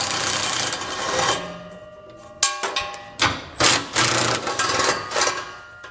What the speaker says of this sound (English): So I'll pull those out using a 13 millimeter socket.